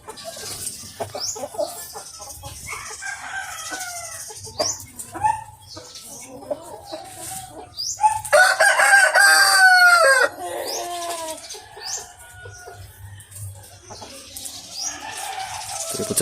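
Rhode Island Red chickens at snack time, with close clucking and squawking throughout and a loud rooster crow in the middle. A voice speaks at times amid the birds.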